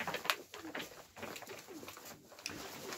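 Iranian fighting pigeons coo in a winter loft in soft, repeated throaty calls. The sound is moderately close and overlaps with rustling and a few sharper clicks.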